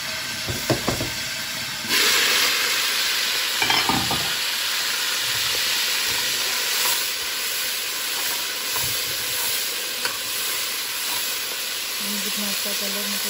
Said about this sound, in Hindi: हमारी ब्राउन हो गई है, हमें पानी डालना है इसमें